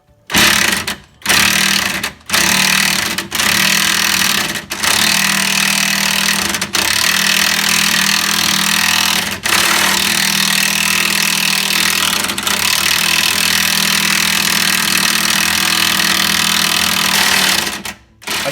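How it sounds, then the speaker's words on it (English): An impact wrench works at stuck nuts and bolts treated with acetone, hammering loudly and close in long sustained bursts broken by a few short gaps. "Now I'll go back to the impact and continue the back and forth."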